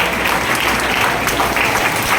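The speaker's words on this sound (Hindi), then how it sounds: "जोरदार तालियां।" Loud, steady applause from a crowd at a stage ceremony honouring a nursing student and his parents, continuous dense clapping with no pauses.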